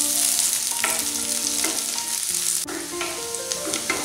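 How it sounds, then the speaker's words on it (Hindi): Finely chopped garlic sizzles steadily in hot oil in a pan, a loud continuous fry with occasional stirring scrapes, no voices. "अब हम इसमें बारीक कटे हुए लहसुन डालेंगे। लहसुन को 30 सेकंड के लिए फ्राई कर लेंगे।"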